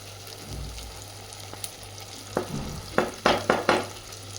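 Food sizzles steadily in a hot pan as fried chili powder is added for a Kerala-style fish curry, then several sharp scraping stirs come in quick succession, close and fairly loud, with no talking.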